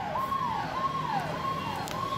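Fire brigade vehicles at a violent street protest near Jamia, where buses were set on fire, sound a wailing siren that rises and falls in steady cycles, loud and continuous over a background of traffic rumble.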